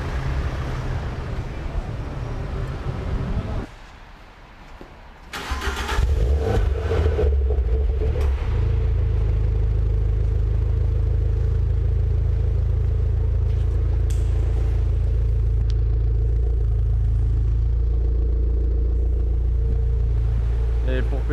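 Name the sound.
Audi R8 V10 Plus engine passing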